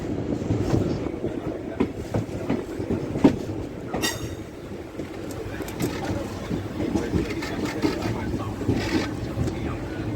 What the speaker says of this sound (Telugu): మన ట్రైన్ ప్లాట్ఫామ్ నెంబర్ 1 మీదికి రావాలి.